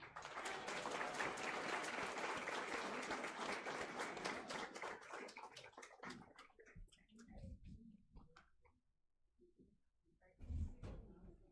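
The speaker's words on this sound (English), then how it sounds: "Please join me in applauding all of our outstanding work" An audience at a school board meeting gives a warm round of applause that holds steady for several seconds, then thins out into scattered claps, shuffling and a few soft knocks.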